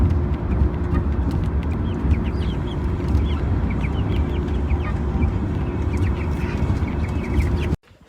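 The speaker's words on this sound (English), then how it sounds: "Meat birds, meat chickens." Meat chickens cluck and chirp in scattered bursts over a steady, loud rumble lasting several seconds, then the sound cuts off abruptly.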